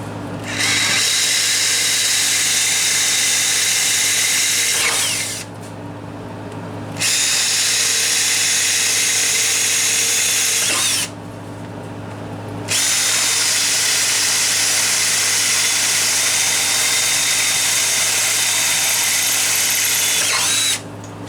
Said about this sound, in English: I'm going to drill these 3 holes with the H